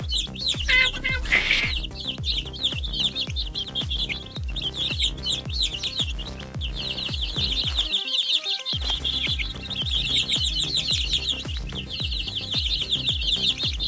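Hungry baby birds in a children's counting game chirp rapidly and continuously at a high pitch, with a steady rhythmic pulse of game sounds and a short break in the middle.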